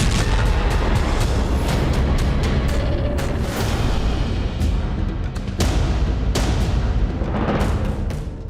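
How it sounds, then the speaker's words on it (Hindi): Heavy, rumbling booms and sharp blasts from a misfired rocket crash repeatedly over a dense, roaring background in the Gaza Strip, loud and close, with no voices. "एक मिस फायर रॉकेट से तेज धमाका"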